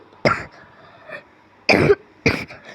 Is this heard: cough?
yes